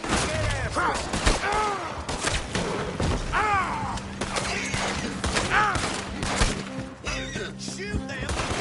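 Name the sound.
gunfire in the video game Red Dead Redemption 2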